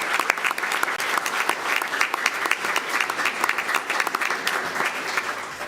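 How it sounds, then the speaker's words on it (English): A school board meeting audience applauds a student award winner with steady, moderately loud clapping that runs throughout, individual sharp claps standing out in the dense crowd sound. "let's have a round of applause for this young man as he walks up to the front of the room"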